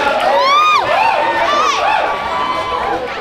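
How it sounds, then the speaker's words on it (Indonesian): Crowd of students at a high school student council election event cheering and whooping loudly, high shouted voices rising and falling over a steady roar, with no clear clapping standing out. "Tepuk tangan dulu tuh MPK."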